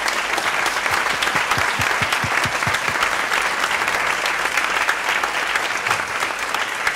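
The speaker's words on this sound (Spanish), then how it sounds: "Un aplauso muy fuerte para él, por favor." A concert audience gives strong, sustained applause. The dense clapping runs steadily the whole time, with a few sharper individual claps standing out near the start.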